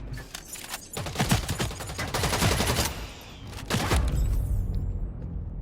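Rapid gunfire from the sci-fi shooter EVE Vanguard, with bursts of automatic shots crackling in quick succession, pausing briefly and then resuming with another dense volley.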